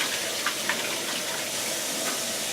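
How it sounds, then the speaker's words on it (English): Tap water runs steadily into a sink while preparing lasagna, a continuous broadband rush with a couple of small splashes, fairly close and heard alone without talk. "Now, run some water"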